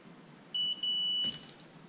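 A continuity tester checking a spool of Romex electrical wire gives two short, faint high-pitched beeps, the second longer than the first, in a quiet setting.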